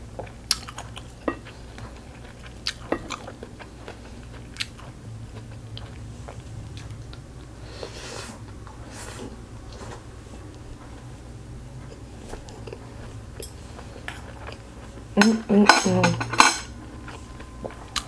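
A wooden spoon clinks and taps against a dish during a kimchi bokkeum meal, with sparse scattered knocks, faint chewing in a quiet room and a brief cluster of louder clatter near the end.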